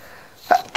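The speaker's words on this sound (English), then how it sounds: "not mean to sneeze right in the recording." A person sneezes at close range: a short breathy intake followed by two sharp bursts, loud against a quiet room.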